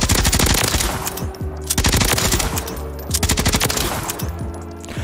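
Rapid automatic weapon fire in Call of Duty Warzone, loud repeated bursts of shots with short pauses between them, no talking.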